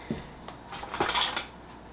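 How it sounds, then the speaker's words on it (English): A knife cutting through a fresh lemon on a board, a few close soft taps and scrapes of the blade over about two seconds. "So I'm just gonna cut this lemon."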